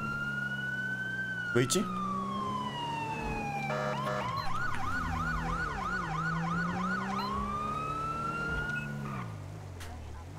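Fire truck siren in GTA V during an LSPDFR police-mode session, a steady wail shifting into a fast yelp and back, loud and close over engine drone, with a short spoken remark early on.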